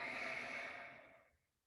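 A single slow, soft exhale during a qigong exercise, close and breathy, fading away to near silence after about a second and a half.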